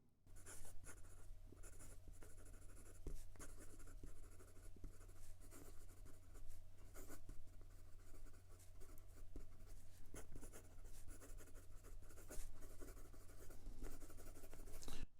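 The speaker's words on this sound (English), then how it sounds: "And some quick writing." A broad-nib Ranga Abhimanyu fountain pen writes quickly across paper, giving a continuous close scratchy scraping with small bursts of strokes, heard alone without talk.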